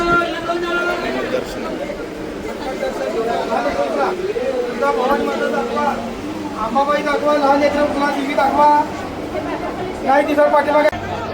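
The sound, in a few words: crowd chatter in the temple queue at Tuljapur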